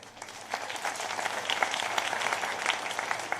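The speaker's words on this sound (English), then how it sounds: "The crowd politely applauded his terrible speech" A crowd politely applauding after a speech, a moderate, somewhat distant patter of many hands that swells slightly and holds steady, with no talking over it.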